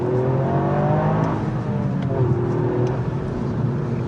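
A 2021 Toyota GR Yaris with its four-wheel drive and three-cylinder engine revs in a continuous whirring, cheeping drone that climbs and falls in pitch, loud and close, with no talk.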